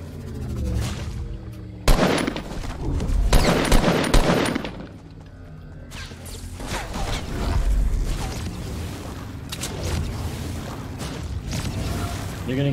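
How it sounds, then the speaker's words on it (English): Gunfire in a battle royale video game, bursts of automatic shots and single cracks mixed with mechanical clatter and creaks, moderately loud and coming in uneven waves. "Someone's shooting at me."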